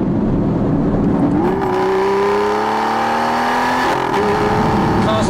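A powerful Aston Martin V12 Vantage S engine revs up and climbs through the gears with a loud, smooth, rising wail, steady and close, with no talking.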